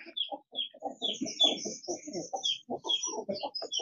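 Two broody hens in a chicken coop cluck in low, rhythmic bursts while their nine chicks keep up high, thin peeping over them, close and continuous.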